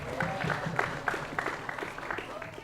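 A high school event audience applauds with scattered, uneven claps at moderate distance, under faint crowd murmur.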